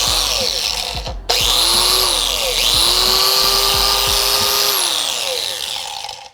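Harbor Freight angle grinder spinning up with a loud, close, high-pitched motor whine that cuts out briefly, revs up again and holds steady before winding down at the end.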